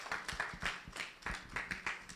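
An audience applauds the chair at a World Population Day 2022 celebration. The clapping is fairly quiet and a little sparse, with separate claps standing out in an uneven rhythm for about two seconds and no talk over it.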